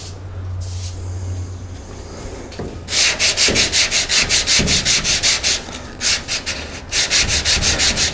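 An MGA's bodywork coated in Bondo body filler is block sanded by hand: after a quieter start, a brisk run of regular back-and-forth rasping strokes sounds close and loud, with a couple of brief pauses.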